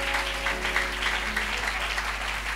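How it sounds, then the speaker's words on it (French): A church congregation claps steadily throughout, a dense, continuous wash of applause with no pauses, fairly loud and close, with a faint low hum beneath. "Put your hand together for the Lord."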